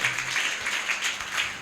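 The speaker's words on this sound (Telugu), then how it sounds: "చప్పట్లు కొట్టి దేవుని నామాన్ని కనపరుద్దాం." A church congregation claps in praise of God, a dense, steady wash of many hands clapping together at moderate volume, with no voices over it.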